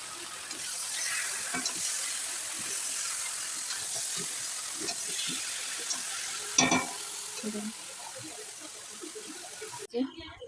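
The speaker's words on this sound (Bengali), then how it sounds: "তাই এই যে মাংসটা কষানো হচ্ছে, এই মাংসটা বানাচ্ছি।" Mutton being sautéed with spices in a pan, a soft continuous sizzle with scraping stirs and a few knocks, fairly faint and close, with a voice talking.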